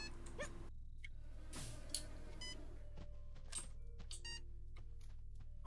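Sparse electronic beeps sound in the game Supraland, short tonal blips at intervals over a steady low background hum, moderately faint with no talking.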